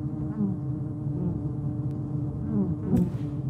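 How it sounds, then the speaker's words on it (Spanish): Bees buzz in a continuous, droning swarm inside a sci-fi apiary in the video game Fort Solis, a steady nearby hum with faint clicks and a brief brighter burst near the end. "Stop staring at bees."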